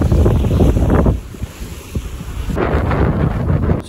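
Strong wind buffets a reefed sailboat under sheet-to-tiller self-steering, roaring loudly across the mic with a brief lull before the gusts and water noise build again.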